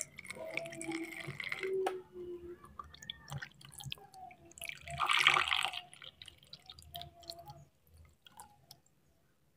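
Water poured through a funnel into a container, a gurgling, dripping flow with a louder splashy burst in the middle, then trickling off into near silence.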